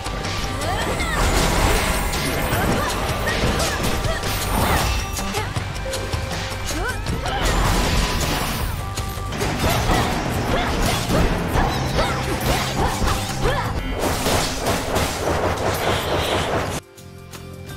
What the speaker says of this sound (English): Attack sounds feel punchy, or the ambient design and music hits really well.